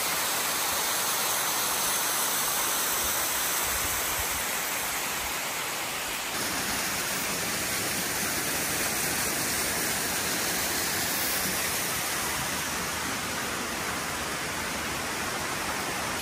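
A constant, dense roar of falling water fills the whole stretch, loud and unbroken like a nearby waterfall, with no voices.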